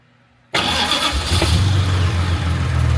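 A Jaguar MKII engine bursts into life first time after a brief quiet moment, with fuel pumps heard beforehand, and settles into a loud, rumbling idle close by.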